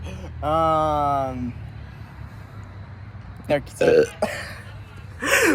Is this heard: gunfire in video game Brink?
no